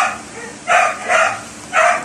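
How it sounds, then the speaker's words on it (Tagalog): A dog barks three times close by, short loud barks spaced roughly half a second apart over faint background noise. "Ay nako, ingay ng aso ko."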